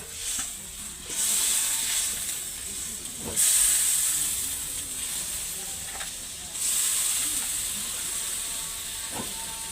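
Steady hiss and sizzle as water goes into a pan of hot, fully cooked masala for a spicy mrigal fish curry with brinjal, with a few louder surges of steam breaking through a constant frying background.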